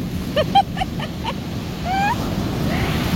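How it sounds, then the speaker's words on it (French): Rising sea waves churn and boil at a beach at Sainte Marie la Mer, a continuous roar of surf with a few brief bird calls over it. "Ça monte et il y a beaucoup de vagues et ça bouille beaucoup."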